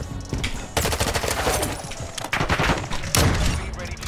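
Rapid gunfire in a video game sniping match, dense overlapping bursts of shots at close range, with a player's voice talking over the shooting.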